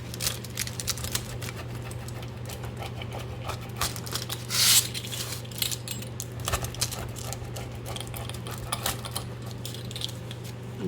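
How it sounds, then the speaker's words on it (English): A pizza cutter rolls through a crisp tortilla pizza on a Presto Pizzazz pizza maker, making a run of quick crackly clicks and scrapes over a steady low appliance hum, with one louder crunchy pass midway. "I'm just going to take my pizza cutter and cut it into little individual slices."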